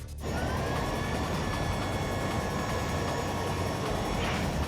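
An aircraft on final approach with full flaps and landing gear down, in a thriller film, gives a loud, steady, unbroken roar that holds at the same level from start to finish.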